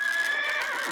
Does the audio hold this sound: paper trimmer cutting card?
no